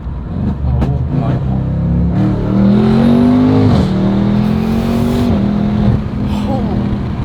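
A 900hp BMW M550 accelerating at full throttle, the engine climbing loudly in pitch through rising revs with a gear change, heard close from inside the car, with voices exclaiming over it.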